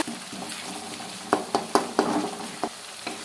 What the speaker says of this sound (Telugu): రెండు చిన్న సైజు టమాటాలని పీసెస్ కట్ చేసి వేసేసుకొని ఆయిల్లో మెత్తపడేంత వరకు వేయించేసుకున్న తర్వాత